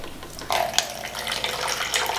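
A quarter cup of vinegar is poured for a homemade lava lamp, a short close splashing trickle that starts abruptly and runs steadily to the end.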